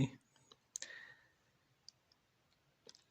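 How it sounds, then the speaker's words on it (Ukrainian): Ukrainian 10 to 50 kopiyka coins are sorted by hand, producing a few sharp metallic clicks and clinks spaced irregularly over quiet background, close to the listener. "Перебор монет по 10-50 копійок результат."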